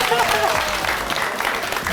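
A crowd claps and cheers loudly, dense applause filling the space with voices mixed in.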